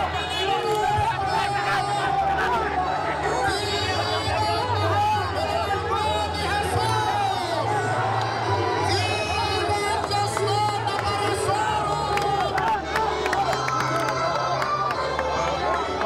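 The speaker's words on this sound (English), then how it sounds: "and the crowds are going crazy." Dense, excited crowd at the Peñafrancia festival procession, a loud continuous roar of chatter, shouts and cheers that swells and churns steadily throughout, with close voices mixed into the din.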